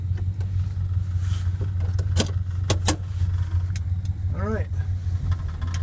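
A 1979 Dodge W200 Power Wagon engine idles with a steady low rumble, close and continuous, with a few sharp clicks and a brief rising squeal partway through.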